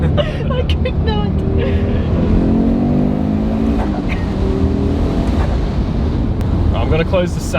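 Audi RS3 with a 5-inch air intake, driven with the sunroof open, giving a steady loud engine drone with a few rises in revs under heavy wind rush; a voice talks over it.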